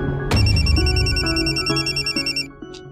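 A telephone rings in a bright electronic pattern, loud and close, pulsing repeatedly for about two seconds before cutting off, with no talk over it.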